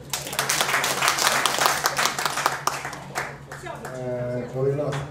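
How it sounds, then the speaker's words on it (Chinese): Applause from a ceremony audience honouring Qinqiang opera teachers, a dense burst of clapping that fades out as a voice starts speaking. "掌声欢迎。"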